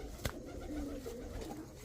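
A pair of kajal-eyed Damascene pigeons, a male and a female, coo softly in low continuous murmurs near a market seller, with a brief knock early on.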